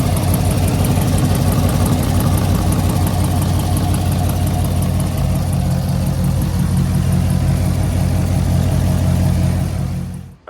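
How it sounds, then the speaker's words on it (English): A Camaro SS engine idles steadily up close with a light, rapid ticking from the driver's side cylinder head, cutting off abruptly at the end. "I heard a light ticking sound coming from the driver's side head"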